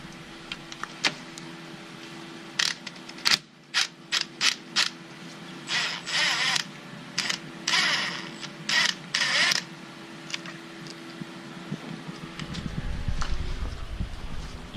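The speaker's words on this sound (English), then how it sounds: "using a T50 socket, I'm gonna remove this Allen key right here" A T50 socket on a ratchet works a bolt loose on a 2008 Infiniti G37s during a gallery gasket repair, giving close bursts of rapid metallic clicking with short pauses between strokes over a quiet garage background.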